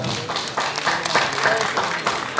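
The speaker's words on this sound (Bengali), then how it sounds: "অডিয়েন্স থেকে, করতালি দিই সবাই" An audience claps together at a formal event, a dense, steady patter of many hands filling the space, with a murmur of voices mixed underneath.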